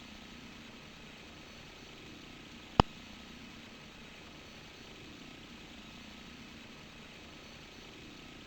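A helicopter spinning while flying on its side gives a steady, quiet rotor and engine drone throughout, broken by one sharp click just before the three-second mark.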